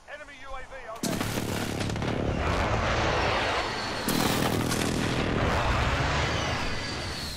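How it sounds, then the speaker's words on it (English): Precision airstrike explosions in Call of Duty: Modern Warfare arrive as two heavy, sudden blasts a few seconds apart, each launching a sustained loud rumbling roar with debris crackle, heard over faint background chatter. "Be advised, friendly precision airstrike inbound."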